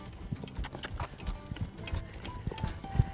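Hooves of a horse under saddle clop at a walking pace during a western trail-riding lesson, an irregular series of close, moderate thuds and knocks over faint background noise.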